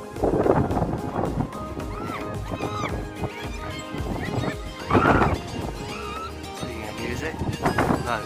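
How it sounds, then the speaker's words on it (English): A horse being ridden by visitors at a tourist spot in Mustang, Nepal, whinnies and neighs with clopping hooves, the calls rising clearly a few times over steady chatter from nearby people. "They are riding a horse."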